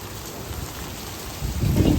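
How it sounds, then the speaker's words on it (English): Pea-sized hail falling during a spring thunderstorm, a dense steady patter that grows louder near the end, with no one speaking. "I wouldn't necessarily say this is severe hail."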